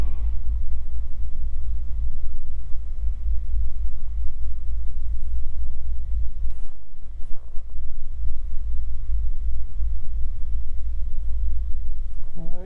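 Aircraft engine rumbles steadily while taxiing at Greensboro airport, a loud, continuous low drone heard from inside with no talking.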